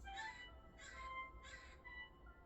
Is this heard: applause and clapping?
no